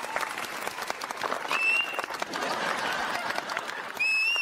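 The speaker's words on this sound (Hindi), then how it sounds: "तालियां।" A crowd greeting a royal ceremony for a princely estate's ruler breaks into dense, sustained clapping that swells toward the end, with a few thin whistles cutting through.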